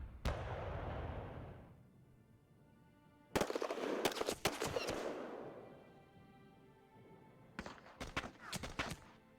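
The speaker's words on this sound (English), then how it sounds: "The artillery is very effective against the beach." Artillery fire pounds a beach in the World War II video game Hell To Pay, during the Kyushu assault: several sharp, loud blasts, each trailing off in a rumbling decay, arrive in separate bursts with quiet gaps between them.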